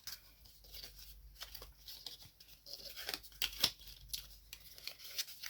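Paper being creased and folded to mark the fold lines of a handmade advent calendar box, giving soft crinkling, scraping and brushing sounds in a quiet room, with a few sharper crackles partway through.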